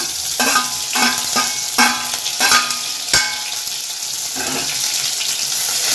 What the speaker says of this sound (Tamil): இப்போ நம்ம வெங்காயம் சேர்த்துக்கலாம். அடுத்தது இந்த கருவேப்பிலையும் இதிலே சேர்த்துடலாம்.